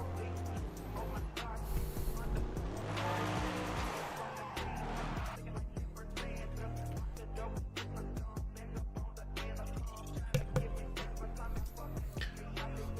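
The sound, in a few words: C63 AMG car engine driving to the line, sim racing video game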